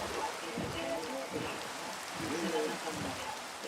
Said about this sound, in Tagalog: Okay, it's raining.